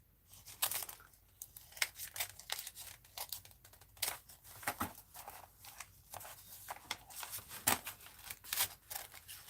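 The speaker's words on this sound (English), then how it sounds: "Well, I guess I'll cut it this way then." Scissors snip through paper in a quick, irregular series of close, crisp cuts and crinkles, fairly quiet and with no talk.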